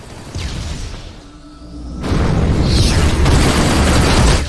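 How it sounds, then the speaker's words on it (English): An incoming missile explodes in the space combat game Rebel Galaxy Outlaw, a loud booming blast that follows a quieter whooshing approach and then holds as a sustained roar. "Missile inbound."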